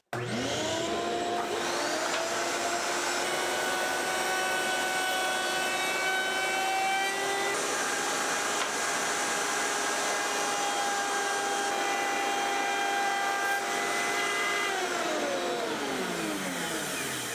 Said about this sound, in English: I'm going to make use of the router table